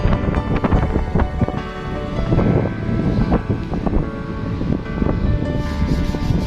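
Strong beach wind buffets the microphone on a three-story building in a constant rushing roar, with gusty low rumbling and no voices.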